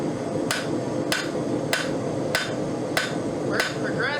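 Stout hammer blows strike a copper rose being forged on an anvil, seven sharp metallic rings falling in a steady rhythm about every half second over a continuous low roar of background noise.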